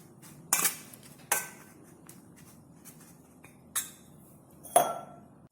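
A metal spoon scrapes and clinks against a pan while coriander-cumin powder and garam masala are stirred into a gourd curry, with a few sharp knocks spaced across a quiet kitchen.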